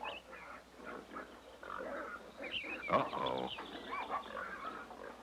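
Pigs grunt and squeal in a medieval village garden, a busy run of snorts and oinks at close range, with a short spoken exclamation over the top.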